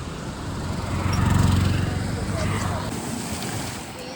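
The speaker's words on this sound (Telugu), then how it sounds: "And there is the beach." Ocean waves at a beach beside the road to Uppada on the Godavari coast, heard as a broad, steady wash of surf with wind buffeting the microphone, swelling slightly midway and staying continuous throughout.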